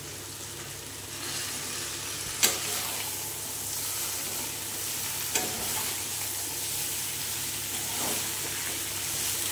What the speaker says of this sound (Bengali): এভাবে সব সবজি দিয়ে সুন্দরভাবে একটুখানি কষে নিলে পরে, ভাজা ভাজা করে নিলে পরে তরকারি টেস্টটা খুব সুন্দর আসবে